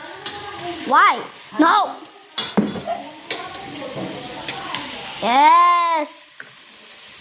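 Chicken frying in a pan gives a steady sizzle beneath excited voices, with loud exclamations and brief talk breaking in and out over the cooking noise.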